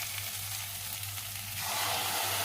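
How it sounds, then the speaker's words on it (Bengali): Onion and green chili sizzle in hot oil in a pan, a steady close frying hiss that swells louder near the end. "এদিকে পেঁয়াজ আমার ভাজা হয়ে গেল, পেঁয়াজ লঙ্কা সব ভাজা হয়ে গেছে"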